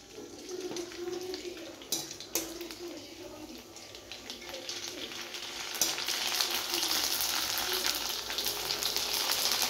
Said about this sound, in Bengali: এবার ওই একইভাবে সব পাঁপড়গুলো আমি ভেজে নেব।